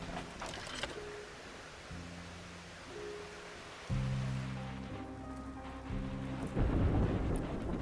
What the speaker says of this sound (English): A storm rages.